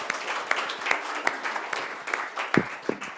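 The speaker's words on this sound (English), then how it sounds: "Give you guys a round of applause." Applause from a small group at a team meeting, a steady patter of clapping hands with scattered louder claps, heard on its own without talk.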